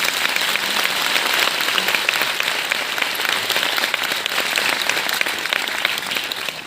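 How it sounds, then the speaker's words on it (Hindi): Sustained applause from an audience honouring Malini at a Manoj Muntshir talk, a dense, even wash of many hands clapping, loud and continuous with no voices over it. "मालिनी जी के सम्मान में तालियां बजाएं आप लोग।"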